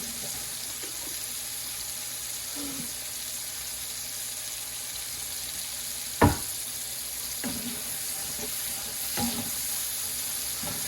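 Mushrooms fry in a pan, a steady, broadband sizzle running continuously, broken by a few brief scraping clinks of stirring, one sharper knock near the middle.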